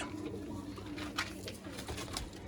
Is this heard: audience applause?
no